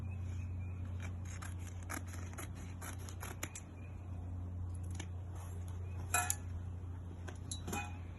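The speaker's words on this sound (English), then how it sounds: "We're going to cut the cloth into like an inch or an inch and a half long strip." Scissors snip repeatedly through thick cloth, cutting it into strips about an inch wide for char cloth; the crisp cuts come in an uneven rhythm, close and fairly quiet over a steady low hum.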